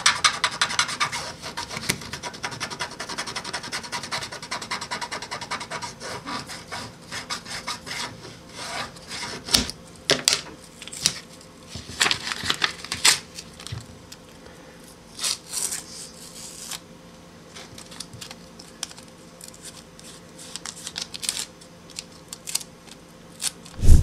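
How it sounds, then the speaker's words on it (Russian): Masking paper tape is pressed and rubbed firmly onto a steel metal file, giving scattered dry scratching and rubbing strokes with short crackles and taps, close and fairly quiet. "Наклеили и хорошенечко его приклеиваем."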